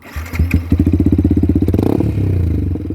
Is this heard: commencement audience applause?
no